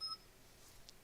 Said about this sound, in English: Sorry about my phone notifications.